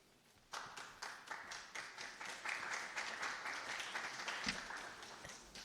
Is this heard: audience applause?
yes